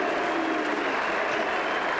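At the Sheffield Shield final, a large cricket crowd keeps up a dense, continuous roar of noise that sounds distant and fills the whole stretch without a break.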